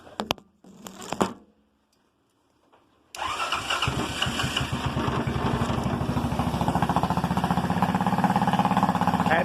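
Cold start of a Honda 200cc off-road buggy engine in roughly 15-degree weather, choked by hand: a few brief cranking bursts and a pause, then the engine catches and runs steadily and loudly near the microphone.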